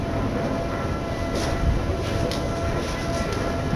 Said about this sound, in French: Attendre une rame à deux étages.